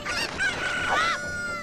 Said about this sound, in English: Let's bring these 2 chickens outside of here.